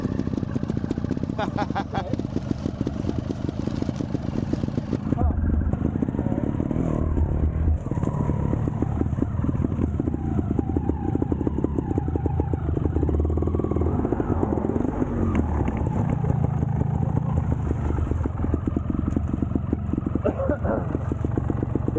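A vehicle's tire spins on frozen, icy ground, the engine revving steadily with a droning whine throughout, close and fairly loud, with people talking over it.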